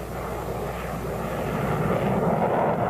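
A loud, steady jet engine roar builds as a fighter jet climbs rapidly after takeoff in military power, a broad rushing drone that swells slightly toward the end.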